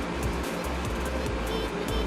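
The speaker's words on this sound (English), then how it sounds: "If you hear the noise in the background, that's my air conditioner." An air conditioner running indoors gives a steady broadband whoosh with low hum, continuous and fairly loud, with faint periodic thumps beneath.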